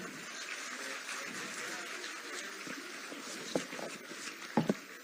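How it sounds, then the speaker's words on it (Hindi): A crowd keeps up continuous applause at an appointment letter distribution ceremony, a soft, even wash of clapping heard from a distance, with a few sharper knocks near the end. "लगातार तालियां होती रहें।"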